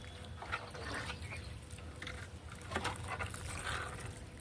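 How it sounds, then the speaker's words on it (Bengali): Water is poured onto a newly planted lemon tree in soil with cow dung manure, a quiet, uneven splashing and trickling that rises and falls in soft bursts. "এবার এটার মধ্যে একটু জল দিয়ে দেবো"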